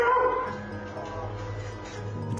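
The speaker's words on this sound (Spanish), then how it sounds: "Los animales se mueven de una ventana a otra mientras ladran y se quejan por esa presencia." Several dogs indoors moving between windows at night, barking, yipping and whining at something outside the house, the sounds continuous and moderately near with no talking.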